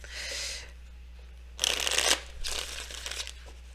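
A deck of tarot cards is shuffled in three quick riffling bursts, crisp and close, with short pauses between them.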